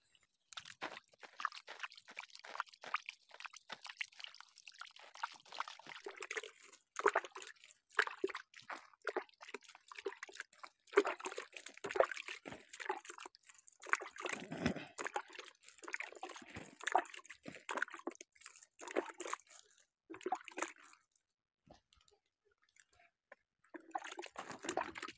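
Thick cow-dung water is splashed and sprinkled over homemade organic compost, giving scattered wet patters, drips and soft crunches in irregular bursts with brief quiet gaps, close and fairly faint.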